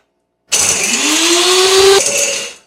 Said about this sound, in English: while I turn on my coffee grinder